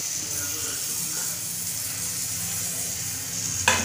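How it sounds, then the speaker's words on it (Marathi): Chopped onion, garlic, tomato and coriander sizzle in hot oil in a pan for dal, a steady close hiss with faint stirring and a sharp clank near the end. "कांदा लसूण घालूया, टोमॅटो घालूया, कोथिंबीर घालूया।"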